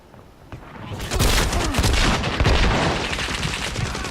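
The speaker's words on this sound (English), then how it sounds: "So, it's a shotgun at point blank, and I'm missing, apparently." Shotgun blasts at point-blank range in the video game Caliber, loud dense gunfire bursts with booming impacts and clattering action sounds filling the scene continuously.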